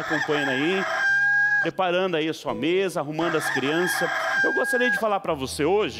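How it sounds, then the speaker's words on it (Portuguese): A rooster crows repeatedly in rising, drawn-out calls, loud and near, mixed under a man's ongoing speech throughout. "E olha o galo cantando"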